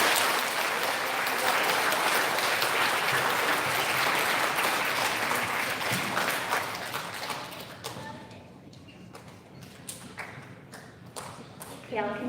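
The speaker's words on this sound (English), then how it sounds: "Big round of applause for our fourth graders." An elementary school ceremony audience applauds fourth graders with full, steady clapping that dies down into a few scattered claps and murmured voices.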